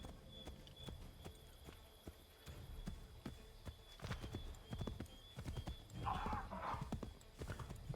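Horses clip-clop at a steady run in Assassin's Creed III, hoofbeats sharp and close over an outdoor game soundscape, with a brief whinny near the end.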